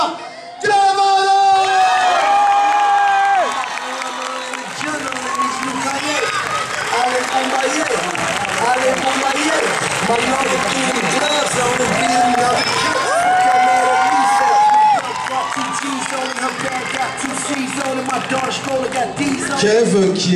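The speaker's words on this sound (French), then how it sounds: "merci tout de suite d'applaudir très fort Commando." A loud cinema audience at a film premiere cheers, shouts and claps continuously, with whoops and voices rising above the roar throughout.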